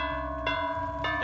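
A bell tolls in the Dead by Daylight game, with bright ringing strikes twice over a sustained low drone.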